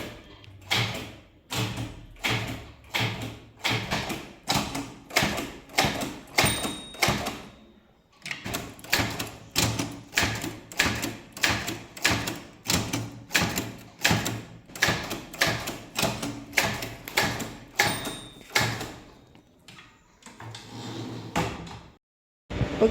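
Manual typewriter keys struck in a typing-class exercise, a steady run of crisp clacks with short pauses and a brief break midway, close and clear with no talk over it.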